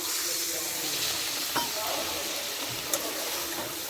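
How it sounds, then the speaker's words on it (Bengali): A little water poured into a hot pan of spiced egg curry masala sets off a steady hissing, bubbling sizzle, loud and close, with a couple of faint clinks. "কষা হয়ে গেছে, অল্প করে জল দিই।"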